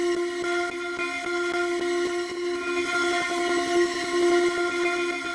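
Granular synth grains synced to tempo in 16th notes form a steady, sustained tonal chord pulsing in fast, even ticks, played alone with no voices.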